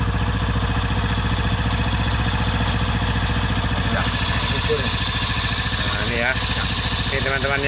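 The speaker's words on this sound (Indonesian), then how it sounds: "Kita coba hidup ya untuk pengetesan oli" A Honda Revo FI motorcycle engine runs steadily at idle during an oil check, a close, loud, continuous putter with a fast even pulse, and someone talks over it.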